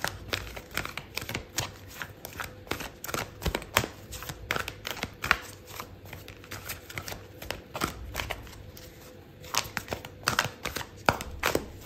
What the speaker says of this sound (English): I'm gonna pull out a card for your advice